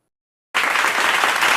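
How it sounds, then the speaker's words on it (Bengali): Loud crowd applause at a local MLA's swearing-in gathering bursts in abruptly after a moment of silence and continues as dense, steady clapping. "এই সকলে হাততালি দাও"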